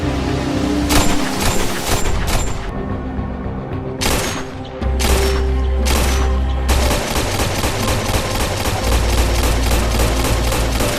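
Loud film gunfire at night under a bridge: pistol shots and bursts from automatic weapons in rapid, repeated volleys, with dense rattling fire near the end and no voices.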